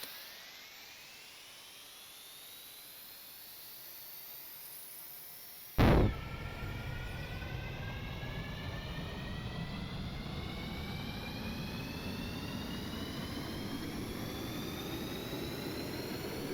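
A huffer cart spins up an aircraft jet engine in Stormworks: a quiet rising whine, then a sudden loud burst, followed by a steady roaring drone with several climbing turbine tones, no talking.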